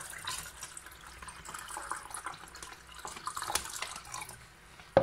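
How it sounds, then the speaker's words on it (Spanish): More water poured into a container, a faint steady trickle and splash running throughout, quiet and close, with a small clunk at the end. "Y vamos a echar un poquito más al agua."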